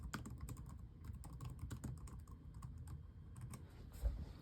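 Rapid, steady clicking of keys on a Dell Latitude 7400 laptop keyboard, fairly quiet and close, continuous throughout with no voices.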